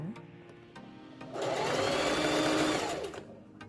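A sewing machine runs in one steady burst through two layers of scrunchie fabric, starting after a short quiet lead-in, humming loud and close for about a second and a half before stopping.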